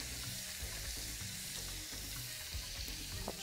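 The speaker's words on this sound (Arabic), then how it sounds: "هحط بقى شويه زيت كده، وهبدا انزل بالثوم بالشكل ده كده" Garlic fries in oil in a pan, a steady close crackling sizzle with small pops and the scrape of stirring throughout, and no voices.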